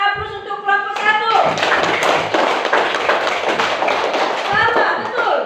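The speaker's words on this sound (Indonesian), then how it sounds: "berikan aplaus untuk kelompok 1" Classroom applause for a student group at a primary school: a burst of clapping from many children that lasts several seconds, with voices mixed in.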